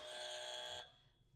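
A quiz game buzzer gives one loud, sustained electronic tone that cuts off abruptly, leaving quiet room noise behind.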